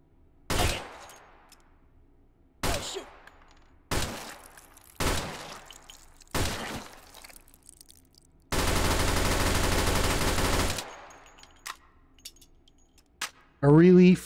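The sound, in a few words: gunfire from shooting enemies in the knees, video game Hot Dogs, Horseshoes & Hand Grenades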